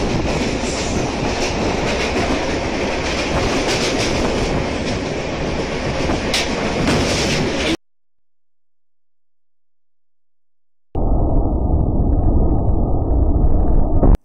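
A train arrives at a station platform with a loud, steady rumble and clatter of wheels on rails, broken by a few seconds of silence before the same rolling roar resumes.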